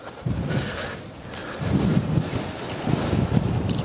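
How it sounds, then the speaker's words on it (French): Strong gusting wind buffets the microphone on a golf course fairway, producing loud, irregular low rumbling bursts that swell and fade over a few seconds, with no speech. "Témoignage de la violence du vent."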